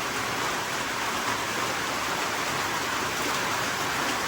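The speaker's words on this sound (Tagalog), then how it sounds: "biglang baksak ang ulan Na-trap tayo dito sa kulungan" Heavy rain pours down steadily near a goat pen, a loud, unbroken wash of hiss and patter with no voices.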